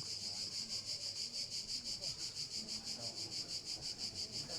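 Outdoor cicadas at a padel country club sing in a loud, pulsing, shrill drone with a regular rhythmic throb, over faint low background murmur.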